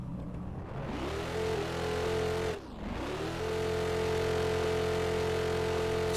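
Dodge Hellcat engine in a Roblox game held in third gear, a loud continuous drone that climbs steadily in pitch, dips briefly near the middle, then settles into a steady high rev.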